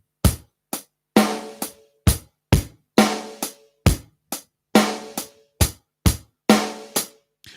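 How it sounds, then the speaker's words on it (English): Simple drum-kit groove without the extra snare, sharp, dry hits in a steady repeating pattern of kicks, snares and cymbal-like strikes, close and loud with silence between beats. "the simple form of the drum beat from section A sounds like this."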